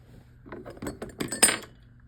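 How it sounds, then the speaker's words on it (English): Small metal clinks and scraping ticks as a tube pin cleaner works over the pins of vacuum tubes from a 1965 Fender Deluxe Reverb guitar amp, a quick close-up cluster of bright taps building over about two seconds. "with our super high-tech tube pin cleaner"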